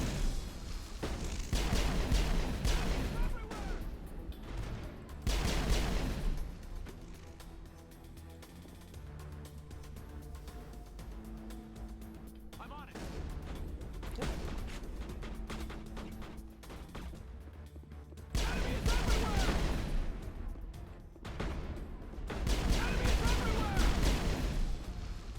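Gunfire in the video game Mass Effect: bursts of loud, rattling weapon fire and booming impacts come in waves, with quieter gaps between volleys and someone talking over the action.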